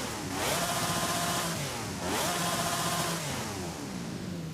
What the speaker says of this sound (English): let me just rev this thing up so you guys can hear it